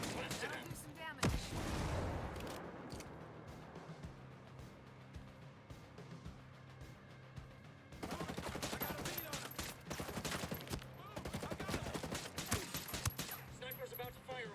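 Gunfire in the video game Ghost Recon: Breakpoint, bursts of rapid shots and booming blasts in two dense stretches separated by a quieter lull, fairly faint overall, with no talk.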